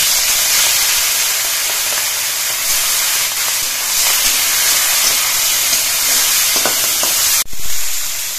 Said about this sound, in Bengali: সর্ষের তেলটা গরম হয়ে গেছে, এবার এর মধ্যে চিংড়ি মাছগুলো দিয়ে আমি ভেজে নিচ্ছি